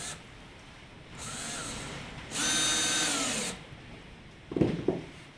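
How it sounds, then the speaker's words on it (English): A power drill drives screws into the seams of a wooden skiff sole during a 23-foot V-bottom boat build, with two loud whirring bursts rising and falling in pitch, followed by a brief clatter. "I just take the screws and drive them in the seams, and it makes the whole bottom seam as one"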